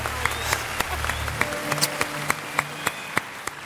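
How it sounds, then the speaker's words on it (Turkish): Studio audience applause on a Turkish television talk show, a steady wash of many hands clapping with sharp individual claps standing out, moderately loud and without talk over it. "Ay annesine babasına da alkış."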